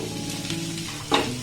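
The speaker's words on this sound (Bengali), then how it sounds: "আলুটা এই মশলার সাথে ভালো করে মিক্সড করে নেব।" Potatoes frying with spices in a pan over a low flame, a steady close sizzle with a brief louder scrape of stirring near the end.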